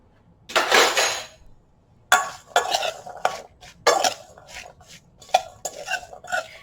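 About two cups of canned chickpeas are stirred in a bowl, a spoon scraping and clinking against the sides in irregular bursts separated by short pauses.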